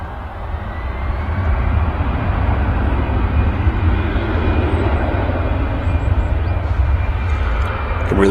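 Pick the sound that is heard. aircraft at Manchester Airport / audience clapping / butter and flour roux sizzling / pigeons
aircraft at Manchester Airport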